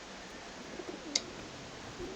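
Pigeons coo softly in the Alice Madness Returns video game, with a few brief, faint calls over a steady ambient hiss and no talk.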